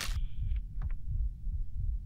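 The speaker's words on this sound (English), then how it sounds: "I hear heartbeats." A horror game, Layers of Fear, plays a slow, deep heartbeat as a low rhythmic thumping of about four or five beats under a steady hum, with a brief higher tone at the start.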